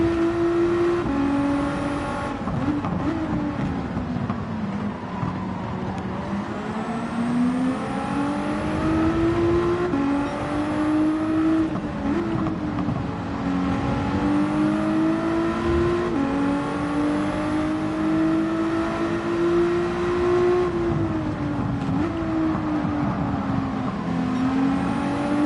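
Onboard engine of a GT4 race car lapping Brands Hatch in Gran Turismo, loud and continuous, its pitch climbing through the gears and dropping sharply on each downshift, over and over.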